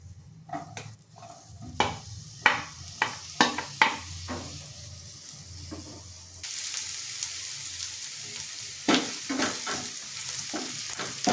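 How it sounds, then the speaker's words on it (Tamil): Chopped large onions frying in oil in a pan, sizzling steadily while a spatula scrapes and taps the metal in irregular strokes, the hiss growing louder midway, close up with no talk. "இதிலையே நம்ம தக்காளி வெங்காயத்தை வதக்கிக்கலாம்"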